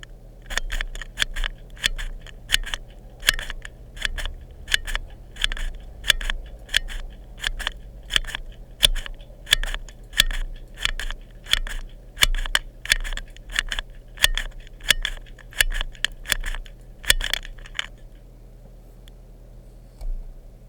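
A prototype keyboard switch sound tester clicks and clacks in quick, uneven bursts of sharp taps for about eighteen seconds, loud and close over a faint low hum, then falls quiet.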